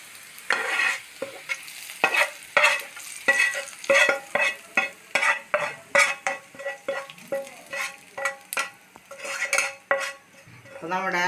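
Shallots frying in a pan for green peas curry, a spoon or ladle scraping and clinking in a steady stirring rhythm over a low sizzle, close up.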